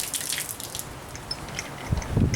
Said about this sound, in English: So you dump this water out of these pecans.